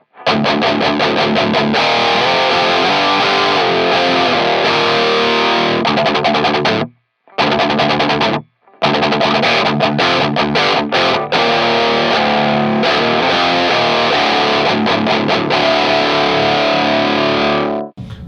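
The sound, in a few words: electric guitar through KSR Ceres preamp pedal, tight feel setting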